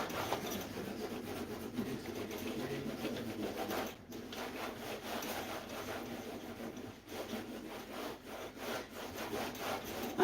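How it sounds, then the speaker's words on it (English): Back-and-forth scrubbing of a dirty surface, a soft rhythmic rubbing that runs steadily and fairly quietly throughout, close by, with no talking. "I'm just gonna keep scrubbing until I get everything out."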